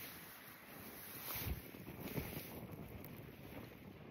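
Wind blows outdoors on the shore of Kodiak Island, Alaska, a low rushing buffet against the microphone with gusts that rise and fall, no voices.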